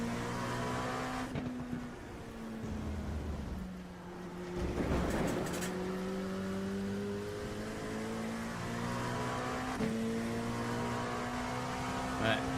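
An LMP2 prototype race car at Road Atlanta, its engine note rising and falling through gear changes as it passes, steady and moderately close, with a commentator's voice over the top.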